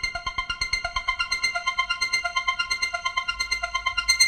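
High arpeggiator synth played on an Ableton Push 2 with a 30 ms attack, a fast bright stream of repeating notes over a soft low bass pulse, steady and clean.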